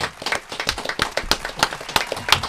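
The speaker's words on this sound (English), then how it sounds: "Round of applause to her" Clapping from a small group follows a spoken tribute to a singer during an interview: a few people clap at close range in a loose, uneven rhythm of sharp slaps for a couple of seconds, with no one talking.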